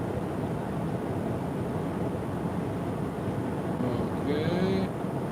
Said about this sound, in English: At 160 it's a bit louder in here